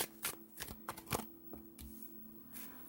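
Tarot cards shuffled close by in quick riffling bursts, a series of sharp papery flicks over about three seconds, with no talking.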